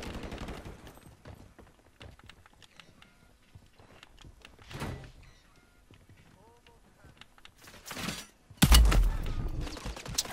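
Gunfire in the video game Warzone, with scattered shots through the round and a loud burst of heavy fire near the end. People talk and react over the game sounds.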